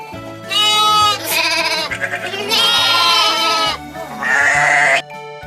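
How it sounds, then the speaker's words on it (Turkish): A sheep bleats three times, long wavering cries, loud and close, with gentle music in the background. "bir koyun. Koyunlar meme der."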